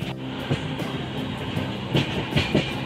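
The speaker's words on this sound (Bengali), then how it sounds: "আমাদের এই ট্রেনের প্রথম হল্ট খড়গপুর আসছে কিছুক্ষণের মধ্যে।" A train rumbles along steadily with rhythmic clickety-clack of wheels over rail joints, a continuous close-up roar inside the carriage, on the Howrah to Visakhapatnam train approaching Kharagpur station.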